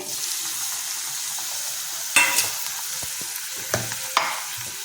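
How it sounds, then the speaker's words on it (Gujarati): Chopped medium-sized tomatoes tipped into a pan of frying potatoes for a green onion curry, giving a steady close sizzle with a few sharp stirring scrapes and clatters of the spoon, no talking. "હવે આપણે એમાં નાખીશું બે મીડિયમ સાઈઝના ટામેટા સમારી લીધેલા છે"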